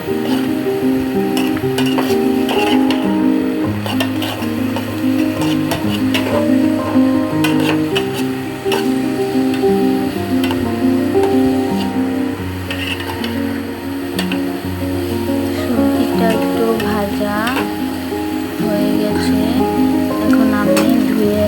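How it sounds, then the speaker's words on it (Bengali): Vegetables with ginger and garlic paste are stir-fried for a meat biryani, making a continuous moderate sizzle with stirring sounds under a steady tonal background. "সবজিগুলো একটু ভাজা ভাজা করে নিতে হবে"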